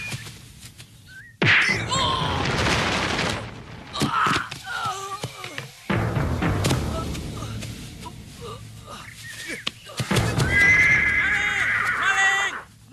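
Horse neighing and whinnying several times amid a chaotic scene, with shouting voices, thuds and commotion around a stolen horse in a period drama; the neighs rise loud and close between bursts of action.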